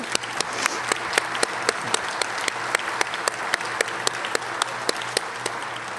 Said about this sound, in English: All of you deserve our applause